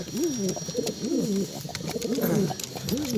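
Pigeons coo repeatedly at close range, a run of soft, rolling calls that rise and fall in steady phrases with no one speaking.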